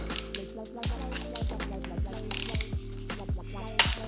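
A 4mm hex key loosens bolts on the handlebar controls of an Aprilia RS660, giving a series of short, close metallic ratcheting clicks in irregular bursts over a light background.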